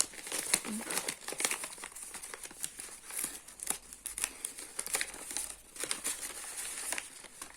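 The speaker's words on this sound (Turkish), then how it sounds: "Şu makası şuradan şöyle bir çekeyim." A package is opened with scissors as its plastic wrapping crinkles and tears, producing a steady run of close, quiet rustling and crackling with a few sharper snips.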